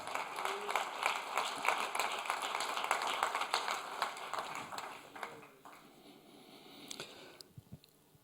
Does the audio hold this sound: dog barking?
no